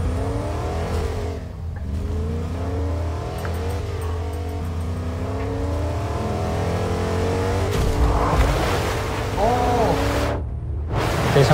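Car engine in the Fortnite video game, a steady low drone with revving surges, heard under excited Dutch voices talking throughout.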